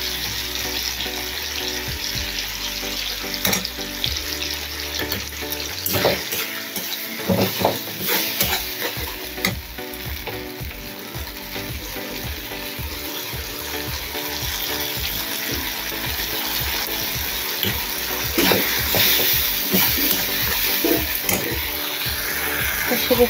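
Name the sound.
frying mustard poppy seed paste with tomato for pabda fish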